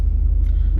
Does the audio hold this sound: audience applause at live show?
no